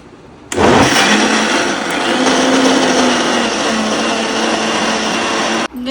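Kitchen blender whirring through ice cream ingredients and milk, starting abruptly and holding a loud, steady high-pitched motor roar for about five seconds before cutting off, with no talking.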